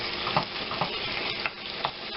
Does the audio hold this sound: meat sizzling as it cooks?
yes